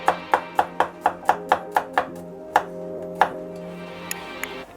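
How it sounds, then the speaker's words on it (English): A sharp new kitchen knife slices peppers thinly on a board, giving about ten quick, crisp chops in an even rhythm, then a few slower, spaced cuts that trail off, close and clear with no talking. "Here we go, so you get nice thin slices."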